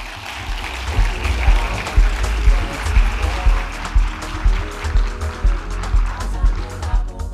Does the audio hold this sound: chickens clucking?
no